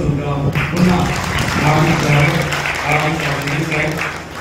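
A room full of people applauds at a press club event in Moradabad, a steady, fairly loud patter of hand claps rising and falling, with a voice speaking faintly underneath.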